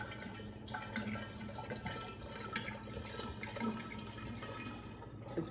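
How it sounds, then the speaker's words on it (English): Everclear grain alcohol, a 750 ml bottle, poured over lemon zest for limoncello, making a steady, quiet liquid stream that runs alone throughout. "So you just pour that in there"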